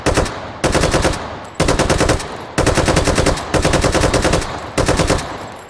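Bursts of automatic gunfire firing armor-piercing incendiary rounds in the VR shooter game H3VR, loud and close, in about six long rapid-fire strings separated by short pauses.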